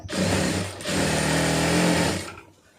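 A sewing machine runs steadily, stitching a curved seam in fabric for home tailoring, with a short pause near the start before the motor whirs on and then winds down; no one speaks.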